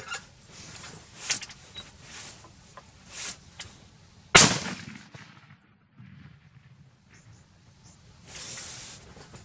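A single loud, close rifle shot from a Remington Model 7 with a whippy barrel firing 130 grain Federal rounds, a sharp crack with a short ringing decay, set against outdoor background noise and quiet rustling.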